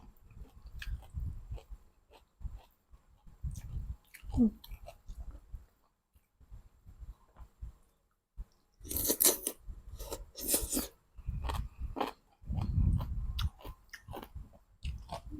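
Someone bites and chews a spicy Thai chicken feet salad, with close crunchy bites and wet chewing that come in bursts separated by short quiet pauses.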